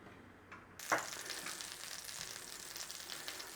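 Butter hits a pan over a gas flame and breaks into a steady close sizzle, starting with a soft clunk and continuing as a constant crackling hiss.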